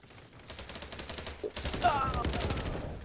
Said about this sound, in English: Just going towards the sound of gunfire